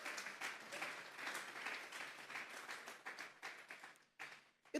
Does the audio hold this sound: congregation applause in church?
yes